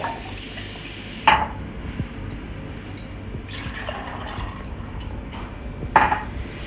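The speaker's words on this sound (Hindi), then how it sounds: "अब हम इसमें ऐड करेंगे 2 ग्लास पानी के।" Two glasses of water poured into a raw mango juice mixture in a home kitchen: quiet liquid trickling and splashing with sharp glass clinks at two moments, no talking.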